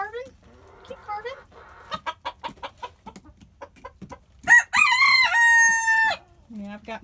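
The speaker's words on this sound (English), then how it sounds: "I've got my two little bantam roosters in here" Two small bantam roosters kept indoors, clucking and chattering in short bursts, then one lets out a loud, close crow, with a brief voice at the end.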